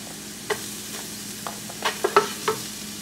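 Garlic fries in oil with a soft, steady sizzle while a utensil stirs it, giving several sharp scrapes and clacks that grow busier toward the end.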